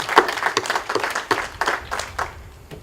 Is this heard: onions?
no